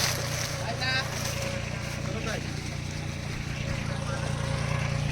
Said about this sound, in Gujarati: તો આપણું આ બીજું ટ્રેક્ટર બી આવી ગયું છે